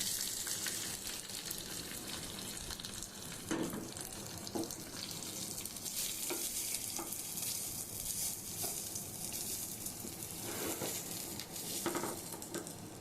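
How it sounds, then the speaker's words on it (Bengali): Cloves, cardamom and black pepper fry in a pan for pulao, a continuous broad hiss of frying, fairly faint and steady with a few soft clinks, no talking. "লবঙ্গ, ছোট এলাচ, গোলমরিচ। আমি এগুলোকে একটু ভেজে নেব।"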